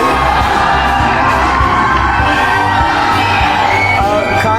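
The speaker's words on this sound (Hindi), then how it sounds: "चलिए खान सर के लिए एक बार जोरदार ताली बजा दीजिए।" A large crowd of students at a speech event cheers, shouts and whoops loudly and continuously, a dense roar of voices with applause mixed in.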